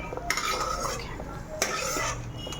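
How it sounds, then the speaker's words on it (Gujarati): Cashews are stirred as they fry in a pan for a cashew-garlic curry, a spoon scraping and clinking against the metal in steady strokes over a soft sizzle, with two sharper knocks along the way. "કાજુને પણ સતત જોડે જોડે હલાવતા જ રહેવાના છે"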